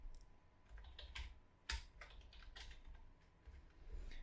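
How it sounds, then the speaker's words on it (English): Typing on a computer keyboard, with quick irregular key clicks and one sharper keystroke, quiet and close with no talking. "Let's type that in here."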